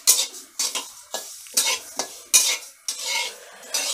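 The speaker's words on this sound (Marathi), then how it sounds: "आता आपण यामध्ये बडीशेप टाकून घेऊयात. कशी भाजून घ्यायची आपल्याला" A spoon scrapes and stirs fennel seeds being dry-roasted in an iron kadhai, giving repeated short scraping strokes about every half second over a soft, faint sizzle.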